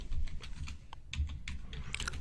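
Keys clatter on a computer keyboard as a SQL query is typed, a close, quick run of uneven clicks and taps continuing for a couple of seconds with no voice over it.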